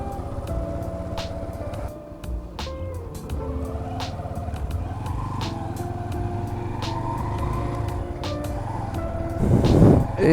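A Yamaha Enticer cruiser motorcycle being ridden, its steady engine drone continuous throughout with shifting tones as speed changes, and a louder rough burst near the end.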